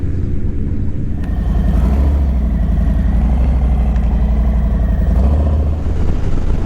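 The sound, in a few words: motorcycle engine running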